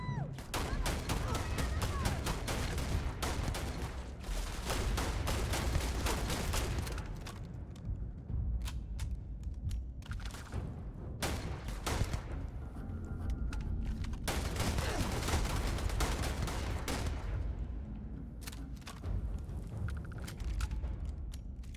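Sci-fi gunfire from the Starfield video game crackles in dense, rapid volleys of close shots and bursts, with brief lulls between the heavy exchanges.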